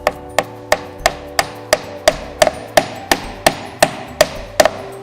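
A hammer drives nails into a wooden base plate on a house build in a high wind area, with about fifteen crisp, steady blows at close range and no talk.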